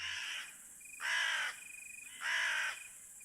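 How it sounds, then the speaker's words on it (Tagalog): A crow gives two loud, harsh caws about a second apart, each a drawn-out rasping call, clear and fairly close against a quiet background. "hanggang sa may tumunog naman na uwak"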